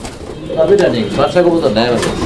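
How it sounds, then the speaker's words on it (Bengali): Fancy farm pigeons coo loudly and close by in a series of throaty rolling calls, with a person talking over them. "কবুতরগুলো দেখেন আপনারা"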